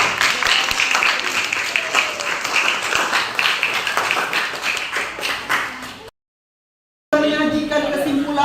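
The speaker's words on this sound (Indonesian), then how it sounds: "Oke, tepuk tangan untuk kita semua." A school science class bursts into loud, close group clapping that runs for several seconds, then cuts to a short silence. It resumes briefly afterward with voices over it.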